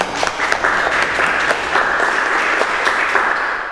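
A class or audience of students gives a loud, dense round of applause, steady and continuous throughout with no voices over it.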